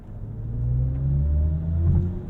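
A low artificial driving sound from a 2022 BMW i4 M50 electric car rises steadily in pitch like a synthetic engine note as it accelerates, smooth and continuous with a faint whir above.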